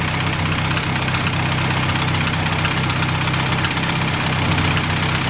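A Crosley car engine idling up close, a steady low rumbling chug with slight knocking that runs on unchanged for several seconds.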